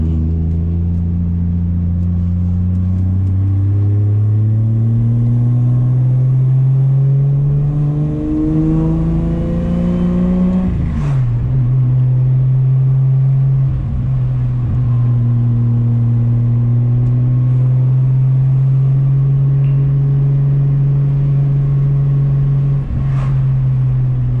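A 700-horsepower 2JZ-swapped Nissan 350Z cruising, its engine droning loud and steady from inside the car, with the pitch climbing through one gear and then settling after a shift into a constant hum.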